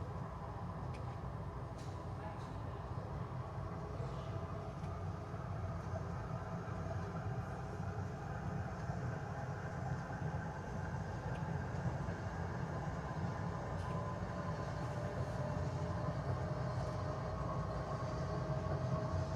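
Ottawa's O-Train light rail pulls out of a station, a steady low rumble and whine heard from inside the car, constant and moderately quiet throughout with faint rattles.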